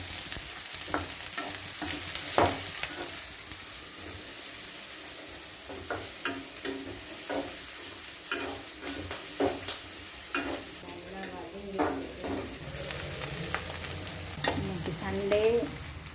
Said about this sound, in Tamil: கருவேப்பிலை, நல்லா எண்ணெயில் வச்சுக்கணும்.